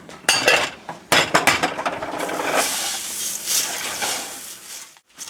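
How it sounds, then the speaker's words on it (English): A spatula mixes Rice Krispies and oats through a bowl of no-bake chocolate peanut butter cookie mixture, giving close crisp rustling and scraping with a few sharp knocks against the bowl, loud and continuous before trailing off. "now I'm going to graduate from the whisk to a spatula and our Rice Krispies"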